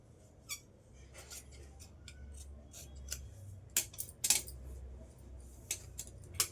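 Scissors snip through blouse fabric in a quiet room, a series of short, crisp cuts at irregular intervals over a low steady hum, with no talking.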